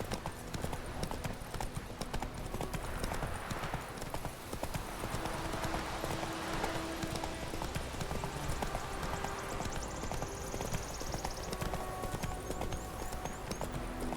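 Horse hooves clip-clopping at a steady walking pace in The Witcher 3, a continuous rhythmic clatter with soft background ambience and faint voices underneath.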